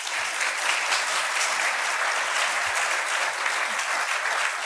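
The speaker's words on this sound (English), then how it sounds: "So first, we'll just give a round of applause to our panel." A room full of people applauding a discussion panel at an AI talk, dense steady clapping at even volume throughout, with no voices.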